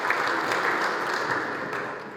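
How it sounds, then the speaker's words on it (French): Sustained applause from an audience closing a general assembly, dense, even clapping that fades slightly toward the end. "s'est clôturée sous des applaudissements nourris"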